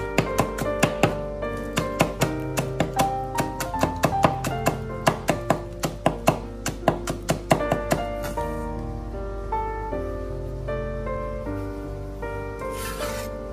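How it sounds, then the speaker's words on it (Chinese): A knife chops scallions into small rings on a cutting board, giving a quick run of crisp, evenly spaced taps up close that slows and then stops, leaving only a soft low hum. No one speaks. "将小葱切成葱花"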